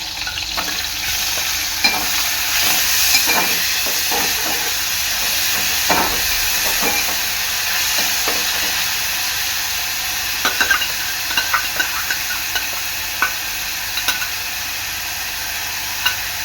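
Finely chopped onion and curry leaves fry in a pan for a drumstick and potato bhaji. A steady steamy sizzle runs throughout, broken by repeated scraping stirs and small taps of the spoon.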